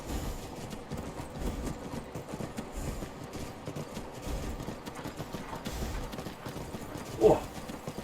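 Horse galloping over rocky ground in the video game Skyrim, a quiet run of rhythmic clip-clop hoofbeats with one sharper thump near the end, no talking.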